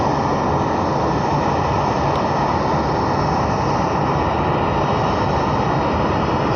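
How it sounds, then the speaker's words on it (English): A Boeing 787 Dreamliner jet takes off, its engines giving a loud, steady broadband roar that holds constant throughout with no voices. "The Dreamliner takeoff."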